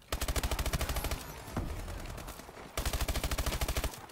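Rapid automatic gunfire from an extended-magazine weapon in Call of Duty Advanced Warfare rattles out in two long bursts, separated by a brief pause with softer game noise.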